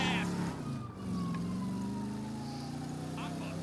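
A police siren in the video game GTA V wails steadily, its pitch slowly falling, with engine hum beneath and a brief sharp noise near the start.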